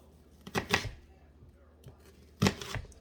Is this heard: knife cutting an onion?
yes